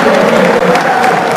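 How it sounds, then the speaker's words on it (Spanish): A loud, thick wash of clapping and some cheering from travelling Argentine fans at a 2006 World Championship basketball quarterfinal against Nigeria, continuous and close throughout. "El aplauso de la gente que viajó"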